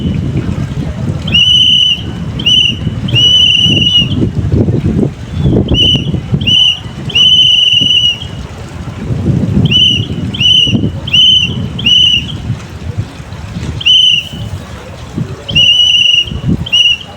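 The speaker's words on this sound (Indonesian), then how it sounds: "saya akan mempraktekkan tentang sandi morse dengan menggunakan peluit" A whistle blown in short and long blasts, spelling out a Morse code pattern in several groups, loud and near over steady wind noise.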